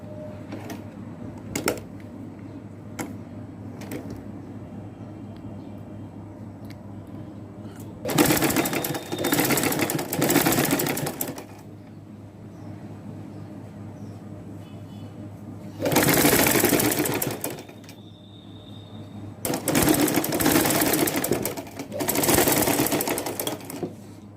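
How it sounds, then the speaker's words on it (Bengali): Sewing machine stitching piping onto a baby frock, heard in three loud sustained bursts of rapid stitching separated by quieter pauses, with faint clicks between runs. "এই যে বন্ধুরা আমার এই পাইপিংটা সেলাই করা শেষ"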